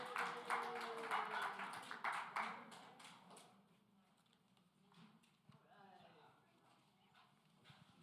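Audience clapping for Dominique Sharpton at a National Action Network Saturday rally: a dense burst of claps under a speaking voice, loud at first, then thinning and fading within a few seconds while talk continues.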